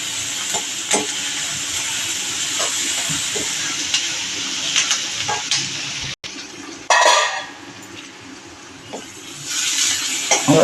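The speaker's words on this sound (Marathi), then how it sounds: "आता आपला बऱ्यापैकी कांदा परतून झालाय" Onion sautéing in a pan for red amaranth greens sizzles and hisses steadily, with scraping stirs and knocks against the pan, a brief cutoff, then a louder burst of sizzle.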